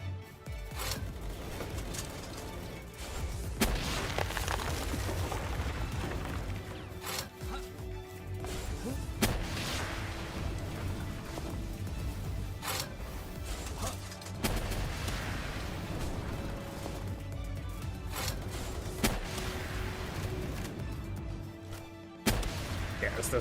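Explosions in the video game Palworld keep booming and cracking in loud bursts for the whole stretch, layered over game sounds and dense enough to almost drown out the players talking over them.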